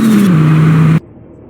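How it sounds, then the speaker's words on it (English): A car engine in the Greenville video game revs hard with turbo whine, holding a steady high tone for about a second before cutting off abruptly. "And even just to rev this car, it's so fun."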